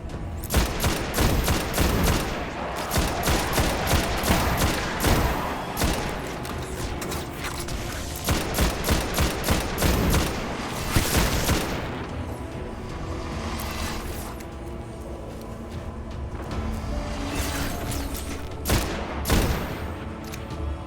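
Gunfire in Destiny: Rise of Iron, loud rapid bursts of automatic shots in quick repeated volleys across the whole stretch, with heavier booms and mechanical clatter mixed in.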